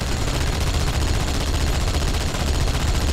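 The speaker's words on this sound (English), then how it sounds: "now shoot those fucking tanks" Sustained automatic gunfire roars loud and dense in a video game battle against tanks, a continuous rapid rattle of shots with no pause.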